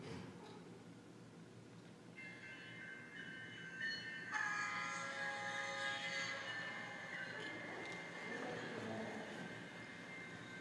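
A train passes a railroad crossing, its horn sounding sustained, blaring tones over rumbling rail noise, moderately distant and steady for several seconds.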